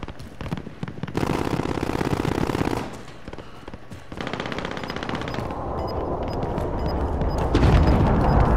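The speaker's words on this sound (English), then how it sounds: "Our teammate's shooting someone else." Video-game gunfire from Call of Duty: Modern Warfare: bursts of rapid automatic fire and scattered shots rattle continuously and loudly, with no talking.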